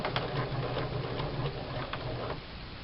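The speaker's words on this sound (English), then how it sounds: "And I'm going to go ahead and start sewing." Sewing machine running steadily as it stitches a seam on fabric for re-covering old oven mitts, a close, continuous mechanical whir with rapid ticking needle strokes and a few light clicks.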